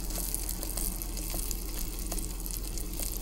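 Battered food frying in a pan of hot oil, a steady crackling sizzle with scattered pops, close and continuous with no talking.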